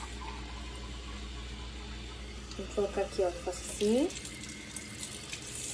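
Water is poured into the reservoir of an American-style coffee maker as a steady, soft stream with light splashing, while people talk over it nearby.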